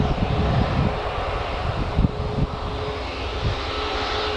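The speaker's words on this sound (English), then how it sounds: "A190 coming in from Air France. That'll be touching down in literally 1 minute." An Air France Embraer airliner on final approach to Newcastle Airport gives a steady, moderately loud engine roar with some wind buffeting, heard from a distance.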